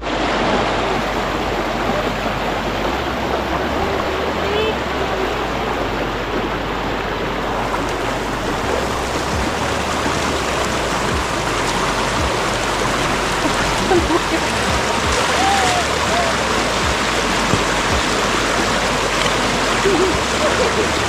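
Flowing stream water runs in a steady, close babble and rush, continuous for the whole stretch, with people talking now and then over it.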